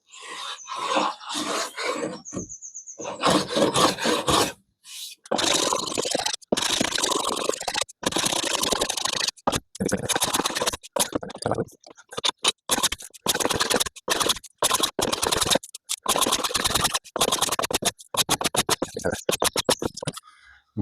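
A hand plane shaving wood for a birdhouse, with loud rasping strokes in a quick, irregular rhythm broken by short pauses, heard close up.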